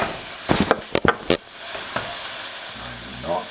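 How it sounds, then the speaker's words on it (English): Two large cloves of northern Quebec garlic sauté in a pan, a steady sizzle punctuated by a few sharp clatters of stirring, close and fairly loud. "Just saute it for a bit."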